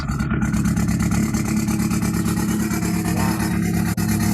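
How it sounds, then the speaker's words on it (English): A car engine with a straight-pipe exhaust and turbo rumbles loudly and steadily up close, a deep pulsing drone with a faint whistling spool layered over it. "Listen to that turbo spool, man."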